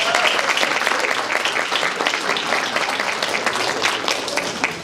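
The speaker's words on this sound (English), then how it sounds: "So let's give Del Rio a round of applause." A welcome reception crowd applauds a supporting partner, a close, dense patter of many hands clapping steadily and loudly without a break.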